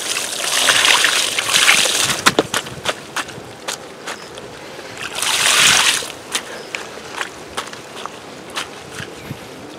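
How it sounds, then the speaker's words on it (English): Water is poured from a container onto partially decomposed compost in a raised garden bed, in two rushing bursts with splashing between them, accompanied by scattered sharp knocks and handling noises. "I'm gonna add in some water."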